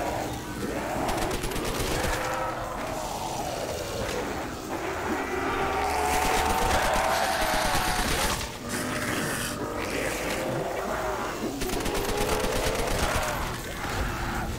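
MP40 submachine gun fire in Call of Duty: World at War forms rapid, continuous bursts mixed into dense game noise and explosions, loud throughout.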